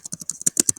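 Keys clack on a computer keyboard in a quick run of about nine close, crisp strokes.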